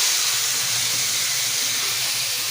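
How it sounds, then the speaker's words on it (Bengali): Lentils for dal bhuna with bottle gourd greens hit a hot pan, giving a steady, fairly loud hissing sizzle that fills the whole moment with no voices. "এখন আমি ডালটা ঢেলে দেব।"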